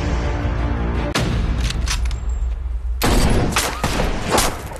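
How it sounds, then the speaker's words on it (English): Bursts of gunfire in an action movie trailer, dense rapid shots crackling over a loud rumbling score, with a sharp break near the start and a second heavy volley in the last two seconds. "Jesus, Jake, somebody is shooting at us!"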